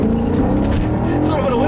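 A 2008 Maserati Quattroporte Sport GTS accelerates hard with wheel spin, its engine note rising steadily and loud from inside the car, with a voice talking over it.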